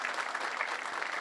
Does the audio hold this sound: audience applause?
yes